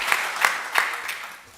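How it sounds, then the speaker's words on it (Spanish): Audience applause at a Spanish-language talk on national planning and development, a short burst of clapping with a few louder accents that tapers off over under two seconds. "Un aplauso para seguir animándolo"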